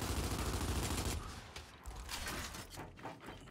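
Heavy gunfire in the video game Gears 5 blasts loudly in a dense burst, then thins into scattered, fainter shots and impacts over a few seconds with no speech.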